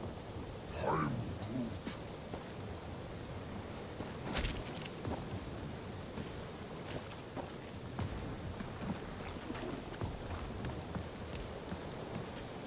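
Steady rain and rolling thunder in the Marvel's Guardians of the Galaxy video game on a forest road, a continuous downpour with a louder thunder crack partway through.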